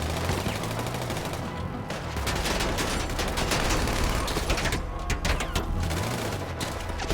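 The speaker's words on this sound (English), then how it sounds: "They just have bullets" Dense gunfire from a GTA Online firefight fills the scene, with rapid bursts of automatic shots overlapping into near-continuous fusillades, loud and close, with no talk over it.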